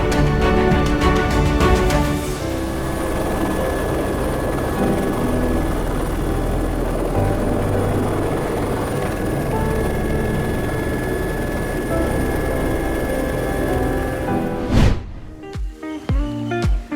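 Helicopter flying over Mauritius at about 115 knots, a steady, loud, close rotor and engine drone that holds throughout before breaking off near the end into brief scattered knocks.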